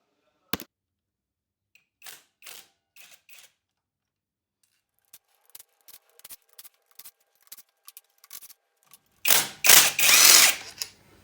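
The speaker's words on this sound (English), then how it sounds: "Gentle with the impact driver." Working on a Yamaha XS650 clutch cover, a few scattered light clicks and taps of Allen screws and tools lead into one short, loud rattling burst from an impact driver near the end.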